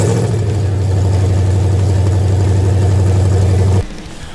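A shop truck idles hard through a brand-new set of exhaust headers, steady and loud with a deep, throbbing low rumble and faint revving, close by and without talk, cutting off abruptly near the end.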